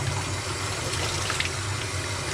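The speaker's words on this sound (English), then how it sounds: "Cranking up that hot water," Hot water gushes steadily from a tap while a freshly dyed blue spiral tie-dye T-shirt is rinsed beneath it, a constant close splashing rush without any speech.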